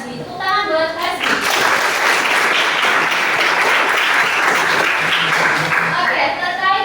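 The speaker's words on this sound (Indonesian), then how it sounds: "Tepuk tangan buat Hasbi." A classroom of high school students clapping loudly and steadily, dense applause starting after a brief moment of voices and continuing throughout.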